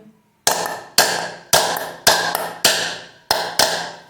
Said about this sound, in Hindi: हल्का सा पुश करेंगे हथौड़े से।